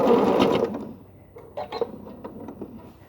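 A sewing machine stitching a quilted tote bag runs in a steady mechanical whir that stops, followed by a few softer clicks and handling noises nearby.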